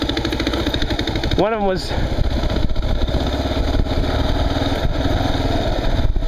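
A KLR motorcycle engine chugs and idles on a trail, its rough, steady mechanical rumble running beneath a voice, with a brief sharp rev near the start.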